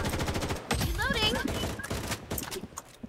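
Bursts of automatic gunfire in a video game, rapid crackling shots that stop and start while a speaker's voice and other game sounds come through underneath.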